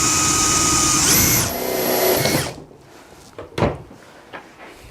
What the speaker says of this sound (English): going to drill a hole into the sheet that's on top